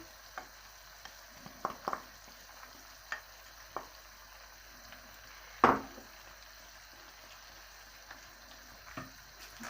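Soft sizzling and bubbling of chicken liver and carrots stewing in a pan, with a few scattered clicks and one louder stirring scrape, close and quiet.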